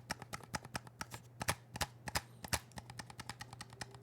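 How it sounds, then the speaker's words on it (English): Rapid, sharp plastic clicks of Xbox controller back trigger paddles on a Scuff Envision Pro, dozens of crisp presses in an uneven quick rhythm, close and fairly quiet. "We're gonna do the Xbox back triggers."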